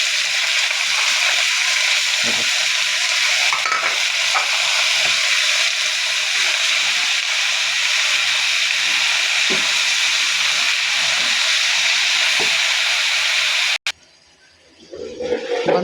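Spinach is added to a pan of browned onion, garlic and chili and fries with a loud, steady broad sizzle close up, with occasional stirring knocks, before the noise cuts out near the end.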